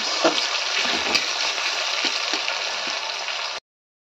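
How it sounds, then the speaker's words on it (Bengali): Chopped onions and tomatoes frying in a pan give a loud, steady hiss with occasional stirring clicks, until the sound cuts off abruptly. "এখন টমেটো আর পেঁয়াজগুলোকে ভালো করে নাড়াচাড়া দিয়ে"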